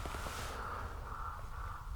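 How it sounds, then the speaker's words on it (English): Crows caw agitatedly in the distance outdoors during a hike, with repeated harsh calls over a steady background of wind and ambient noise. "What is their issue over there? Crows are going nuts."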